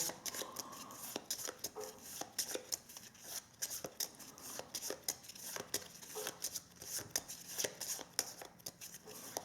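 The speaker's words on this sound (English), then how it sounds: "So let's just give this a quick shuffle." Deck of playing cards shuffled quickly by hand, rapid riffles and soft snapping taps repeating closely in a quiet room, with no talking.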